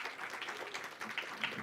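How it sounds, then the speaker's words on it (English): Applause from an audience at a debate event, a soft dense patter of many hands, faint and continuous, with no voices over it. "May I have a round of applause, please?"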